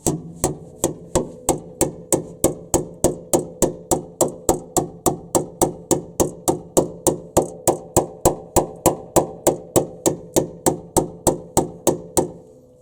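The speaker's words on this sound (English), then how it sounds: "It's bent down with a hammer in the end" Rapid, evenly spaced hammer strikes ring on metal, bending down its edges, about three per second, close and loud throughout.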